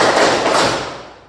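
In a counting clap game, a group of people strike their hands together at once, producing a single loud, close burst that trails off quickly into the room's echo.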